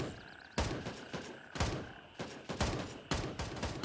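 Repeated bursts of gunfire in the military shooter Gray Zone Warfare, several heavy volleys spaced about half a second to a second apart, fairly loud with no voices over them.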